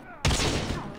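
Gunfire in the mobile video game Call of Duty Mobile: a sudden loud shot starts a dense, sustained burst of noisy firing that fills the rest of the moment.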